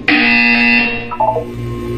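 A buzzer in the video game Portal 2 gives one loud, sustained electronic tone of under a second, followed by a fainter, shorter tonal fragment.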